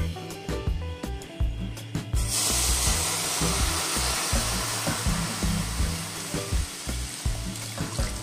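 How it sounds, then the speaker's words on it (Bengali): Amul Gold milk poured into a pan over a low flame: after a few knocks and clatters, a steady broad rushing hiss sets in and continues, close and fairly loud, with occasional light knocks underneath and no speech. "দুধটাকে আমি লো ফ্লেমে দিয়ে অ্যাড করছি এখানে, যাতে দুধটা কেটে না যায়।"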